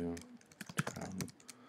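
Typing on a computer keyboard, with a quick burst of light, close key clicks over about two seconds while a voice speaks softly alongside.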